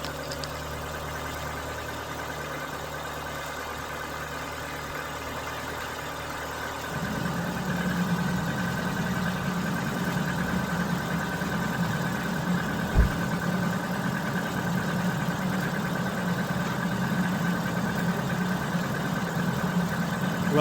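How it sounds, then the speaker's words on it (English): A 2011 Ford Focus engine idling after a water pump and auxiliary belt change: a steady mechanical hum that steps up louder about a third of the way in, with a brief knock partway through. "We've started the engine up, all running fine."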